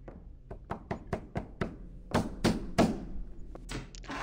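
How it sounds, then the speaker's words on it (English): Knocking from the basement in a horror video game: a series of sharp, hollow knocks, evenly spaced at first, then a few heavier, louder thumps, each standing alone with no voices. "Why are you knocking in my basement?"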